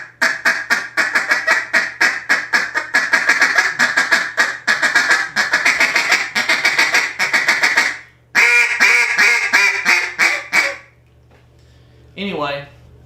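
A hand-blown duck call gives rapid, loud quacking chatter in long runs, breaks off briefly, resumes, then ends with a short raspy burst after a near-silent gap.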